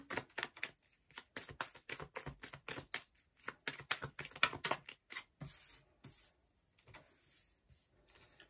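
Tarot cards being shuffled and handled, a fast run of crisp flicking riffles and taps, close and fairly quiet, broken by brief pauses and a softer stretch near the end.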